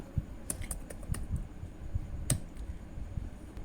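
Rapid clicking of a computer keyboard as data is typed into an Excel spreadsheet, close and crisp, with irregular keystrokes tapping continuously throughout.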